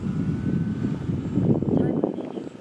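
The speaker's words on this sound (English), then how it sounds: "The plane right now is flying about half speed, so it's pretty good, pretty stable." A Dynam PT-17 radio-controlled model biplane drones overhead at about half throttle, a steady, fairly quiet electric motor and propeller buzz with wind noise that swells slightly as it passes.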